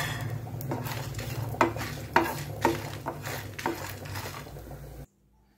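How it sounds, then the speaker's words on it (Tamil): Potatoes fry in a little oil with garlic, hissing steadily in the pan while a utensil stirs and scrapes, giving several sharp clinks and knocks before the sound cuts off abruptly. "லைட்டாக கொஞ்சோண்டு எண்ணெய் ஊற்றி நம்ம அதை வறுத்துடுவோம்."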